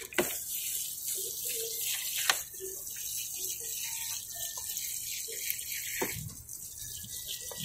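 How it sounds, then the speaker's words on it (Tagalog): Water trickles and splashes faintly as cucumber seeds in a container are watered, with soft intermittent pours and light handling clicks at close range and no talking. "And then basain natin ng tubig."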